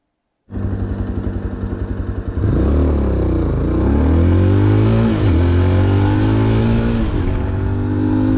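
A Yezdi Adventure 2024 motorcycle engine, a brand new bike being short-shifted, idles briefly, then revs up hard and climbs through gears with loud rising whines and shifts, close and continuous.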